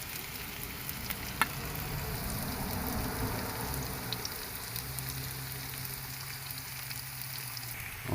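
Onions frying with green chillies in a pan for a tilapia, cauliflower, tomato and bean curry, giving a steady, even sizzle throughout with a soft clink near the start and no talking.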